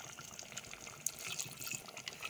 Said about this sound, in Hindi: मैं इसमें 1/2 कप के करीब पानी ऐड कर दूँगी